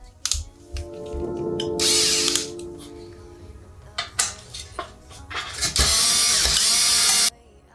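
Drill cutting holes in the metal casing of a pizza oven, with short bursts of high whining drilling between metallic clinks, clatter and handling knocks, close up and without talk.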